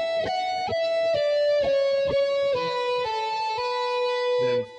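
An electric guitar plays a slow solo run on the upper strings, with clean single notes linked by pull-offs and hammer-ons, each picked attack distinct and the line stepping downward before it cuts off.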